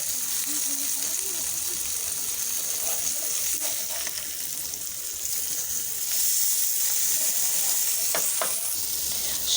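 Masala-spiced brinjal (eggplant) sizzles and fries steadily in a pan, a continuous bright hiss with occasional stirring clinks, close and fairly loud throughout.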